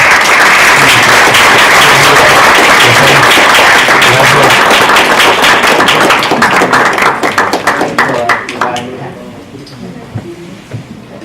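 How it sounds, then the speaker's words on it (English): An audience applauds for a cast member at a film presentation event, dense sustained clapping that is loud and close, then thins into scattered claps and fades out near the end. "So just maybe a round of applause for Jose"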